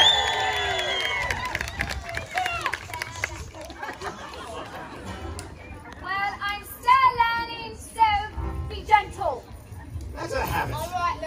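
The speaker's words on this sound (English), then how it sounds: "Everyone, cheer for her." A crowd at the Sleepy Hollow Experience event in Granbury, Texas, cheers and shouts in bursts, with high whoops and excited voices rising and falling over a steady murmur of chatter.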